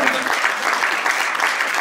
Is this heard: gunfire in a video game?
no